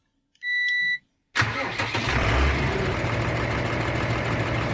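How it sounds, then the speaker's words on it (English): A short electronic chime, a pause, then a tractor engine in Farming Simulator 19 cranks and catches, settling into a steady low diesel idle that runs on. "the sounds on this tractor are absolutely spot on. Just listen to this."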